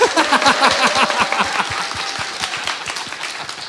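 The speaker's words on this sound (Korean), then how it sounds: "강 기자한테 박수 한번 보내주세요" A studio audience at a Korean talk show claps for a reporter, a loud, close burst of sharp individual hand claps with scattered voices, fading slightly over a few seconds.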